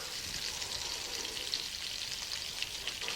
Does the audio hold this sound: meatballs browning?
yes